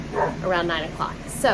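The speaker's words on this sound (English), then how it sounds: "sorry if you can hear the dogs barking" Dogs barking at a home with chickens, a few close, repeated barks and yips mixed in with a person talking.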